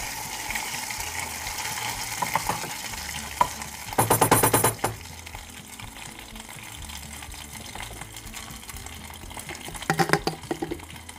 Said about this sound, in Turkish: Şöyle bir salçamı çevireceğim